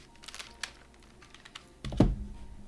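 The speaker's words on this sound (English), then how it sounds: "I still haven't gotten a lovely clicky-clacky keyboard, but hopefully you'll still hear it well enough" Typing on a non-clicky computer keyboard gives a few soft, scattered keystrokes close to the microphone, followed by a louder thump near the end, with no speech.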